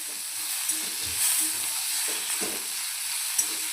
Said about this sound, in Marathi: दोन ते 3 मिनिटापर्यंत छान आपल्याला हे फ्राय करून घ्यायचे